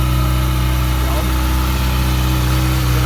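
A Kawasaki ZX-6R motorcycle engine idles steadily while warming up, a loud, constant low rumble with a slight vibrating pulse and no change in speed.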